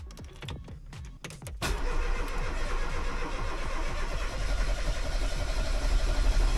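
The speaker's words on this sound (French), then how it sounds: "mais elle veut pas démarrer" A car, brought in for a technical inspection, has its engine cranking repeatedly without catching, a rhythmic churning that starts sparse then runs loud and continuous, close to the listener.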